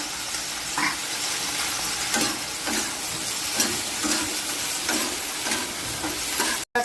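Potatoes fry in hot oil with dried red chilli, cumin seeds and ginger, a steady close sizzle and hiss under a rhythmic series of stirring scrapes, with a brief cut near the end.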